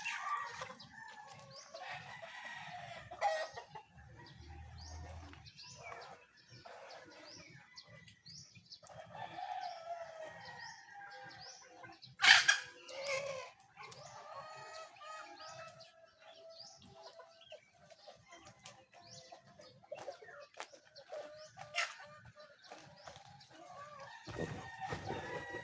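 Backyard chickens crow and cluck repeatedly at moderate distance on a Filipino homestead morning, with one loud crow standing out midway among scattered bird calls and background rustling.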